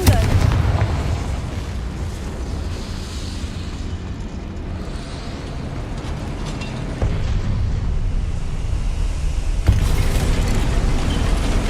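Confringo fire spell blasting in Hogwarts Legacy, a dense, continuous rumbling explosive roar with sustained low-end weight, swelling louder near the end with a fresh impact burst.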